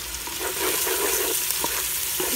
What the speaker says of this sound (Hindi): बहुत ज़्यादा इसको नहीं जलाना है, बस थोड़ा सा फ्राई करना है ताकि ये पिंक हो जाए। ये गार्लिक डाल देंगे अभी इसमें।